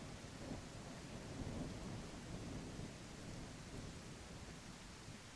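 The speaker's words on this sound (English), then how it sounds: "now let's try rain again." Simulated rain with rolling thunder from Multiverse Designer weather software, a dense, even hiss of rainfall under a low continuous rumble, steady throughout and without any voices.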